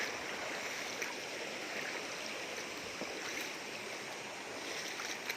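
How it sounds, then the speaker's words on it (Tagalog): A river flows steadily and continuously at a swimming spot, with broadband water rush holding an even level throughout and no voices. "Dito na tayo sa ilog."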